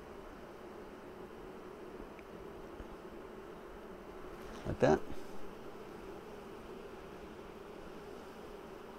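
Honeybees buzzing around an open Flow Hive split during a brood inspection, a faint steady hum beneath quiet handling noise, with a brief louder rustle midway and a person speaking softly.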